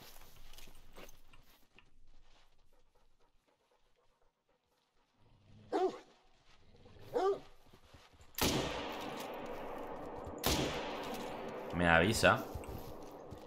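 A hunting dog in the video game theHunter: Call of the Wild gives two short barks, then a louder, rougher stretch of growling and noise, with a voice talking at times.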